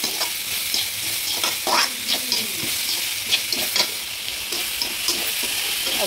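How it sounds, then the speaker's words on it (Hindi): Onions sauté in masala in a pan over low heat with a steady close sizzle, while a spoon scrapes and stirs through the mixture at intervals. "अब इसमें हम प्याज डाल देंगे, प्याज डाल कर प्याज करिए, अब इसमें भून लेंगे"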